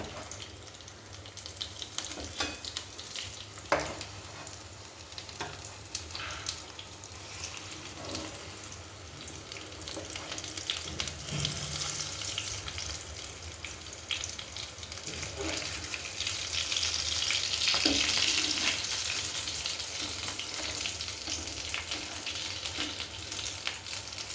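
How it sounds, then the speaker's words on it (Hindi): Chickpeas (chhole) being tempered in a home kitchen pan give a steady broadband sizzle and frying hiss that swells louder toward the end, with occasional clinks and utensil knocks and no talking. "मैं छोला बघारूँगी"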